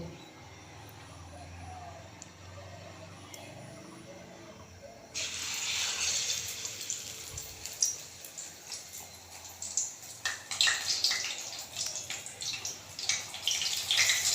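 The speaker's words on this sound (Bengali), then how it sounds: "আস্তে করে তেলটা গরম করে এর মধ্যে ছেড়ে দিতে হবে" Pumpkin-leaf rolls slide into hot oil: a quiet start, then a sudden bright sizzle that swells and crackles more intensely toward the end, close and loud.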